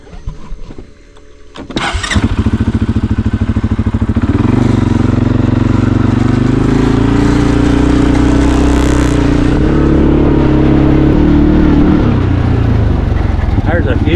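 An ATV engine cranks and catches after a short quiet moment, then settles into a loud, close, steady drone as it pulls away up a trail in West Virginia woods, with no talk over it.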